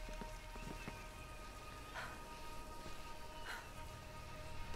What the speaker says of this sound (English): This rain's not natural.